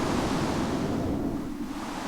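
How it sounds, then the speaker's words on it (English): Steady, broadband rushing of a weak water spout in a Minecraft weather and tornado mod, like a spray or gushing spout, continuous and fairly soft with no voices. "hey, it's a water spout. Kind of a weak water spout."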